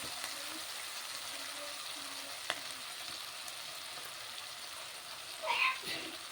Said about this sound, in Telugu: రెండు స్పూన్లు అల్లం కూడా పచ్చివాసం పోయేంత వరకు ఫ్రై చేస్తాం